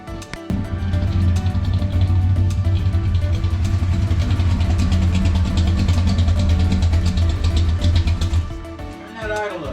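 A racing engine at a racing-engine shop idles loudly in a steady, lumpy rumble for most of the stretch, then fades as it shuts down; voices are faint beneath it.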